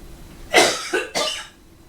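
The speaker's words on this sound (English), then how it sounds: "Don't cough in your food." Three quick, harsh coughs in a close burst, fairly loud against a quiet room.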